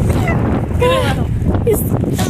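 Strong wind roars and buffets the microphone throughout at an old Soviet-era stadium, with a voice briefly speaking over the steady rushing noise.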